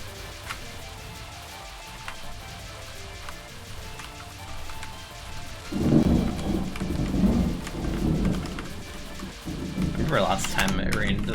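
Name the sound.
thunderstorm with heavy rain and wind outside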